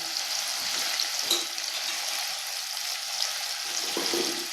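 Mixed vegetables for a bhaji, including cluster beans, ridge gourd, snake gourd and broad bean pods, sizzle steadily in a pan over low gas, close up, with a few soft stirring knocks and no talking.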